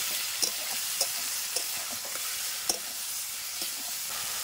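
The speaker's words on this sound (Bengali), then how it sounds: "তো মশলাটা ভালোভাবে কষে নেব" Spice masala with tomato is sautéed in a pan for a Bengali jackfruit curry, a constant hissing sizzle broken by regular spatula scrapes and knocks, close and without talk.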